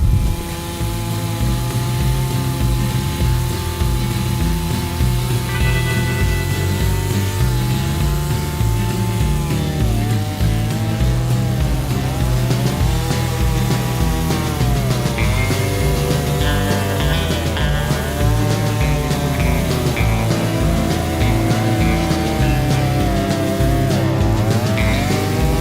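A garden tiller churns and mixes soil in a spring tomato bed, a loud, steady engine drone with a pulsing rhythm and shifting pitch that runs close up and unbroken throughout, with no talking.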